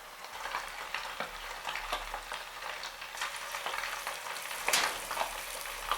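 Hot oil bubbling and sizzling steadily around a chopstick dipped in to test it before frying karaage chicken, a continuous close crackle with small pops and no talking.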